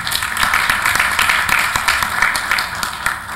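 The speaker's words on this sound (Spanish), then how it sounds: "Un aplauso, por favor." An audience applauds at the inauguration of a seminar in the Mexican Senate, a dense, continuous patter of many hands clapping close and loud with no voices.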